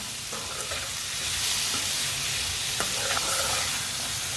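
Green tomato tinday sabzi being stirred in a pan gives a steady frying hiss with soft scraping, a moderate continuous sizzle with occasional light clinks.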